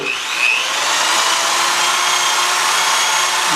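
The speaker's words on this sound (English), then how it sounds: "I want to polish this little area too" Steady, loud whirring of a polishing tool working on an exhaust part of a Yamaha MT-09 motorcycle, running continuously without pause.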